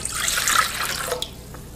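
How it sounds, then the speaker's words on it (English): Warm water pours into a bowl of yeast and sugar, a close, bright splashing stream lasting about a second before it cuts off, leaving a few faint drips. "We're going to add our warm water to it and we're going to let it activate"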